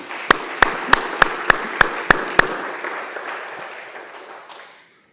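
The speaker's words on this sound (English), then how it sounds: "this is the applause I need" Eight slow, evenly spaced claps in an echoing space, each sharp and ringing, followed by a lingering reverberant tail that gradually fades to silence.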